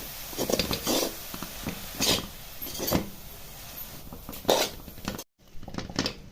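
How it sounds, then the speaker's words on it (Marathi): Grated carrots are sautéed in ghee in a pan for carrot halwa, with bursts of scraping and clattering from a spoon against the pan in uneven strokes over a low sizzle, close up. "एक दोन पाच मिनटं असं तुपावरती परतलं की गाजराचा जो कच्चटपणा आहे तो निघून जाईल"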